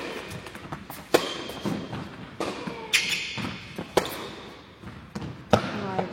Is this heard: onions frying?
no